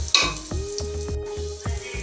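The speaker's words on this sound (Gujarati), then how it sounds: "एमां पण मरचा आपणे तळवाना छे" Green chillies sizzling in hot oil for a tempering, a steady close frying hiss with repeated stirring knocks and scrapes of a spoon against the pan.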